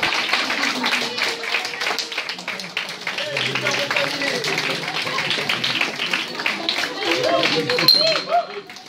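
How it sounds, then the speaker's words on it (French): Guests at a secular naming ceremony in October 2015 applaud the mayor, a dense, steady patter of hand claps from a small crowd with voices chattering underneath throughout. "On applaudit le maire."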